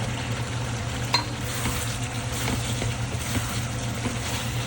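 Small red potatoes frying in a pan give a steady close sizzle throughout, with faint clinks and stirring scrapes over a low background hum.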